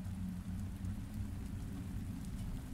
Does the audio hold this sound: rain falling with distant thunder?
yes